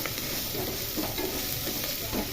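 Chopped onions fry in a pan toward a brownish color for chicken pulao, a steady sizzle with stirring scrapes, close and continuous, with no voices.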